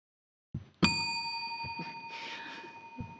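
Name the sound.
bell rung by a judge at a spelling bee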